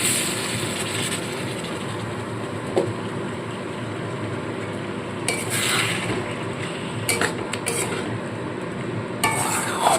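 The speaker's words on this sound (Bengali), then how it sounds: "দেখুন খুব ভালো মতো করে এইভাবে সমানে কষাতে থাকবে" Potato and pumpkin are stirred and sautéed in a pan, a steady low sizzle running throughout with occasional sharper scrapes and clinks of the spoon against the pan.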